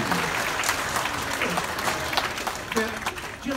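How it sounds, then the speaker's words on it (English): Audience at a comedy magic show applauds steadily and fairly loudly for a volunteer, with scattered cheers and voices mixed into the clapping throughout. "Give her a big round of applause"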